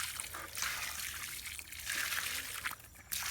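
Water is poured over the soil at the base of a freshly planted durian seedling, a close, continuous trickling splash that briefly dips and resumes.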